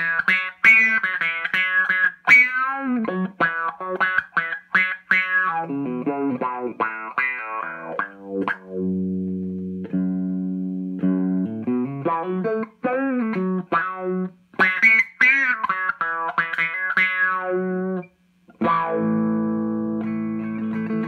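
Electric guitar through a TFA Effects Quack Dealer dynamic filter pedal, notes and chords sweeping with a vowel-like quack that follows picking strength, alternating busy bright runs with sustained lower chords, close and alone.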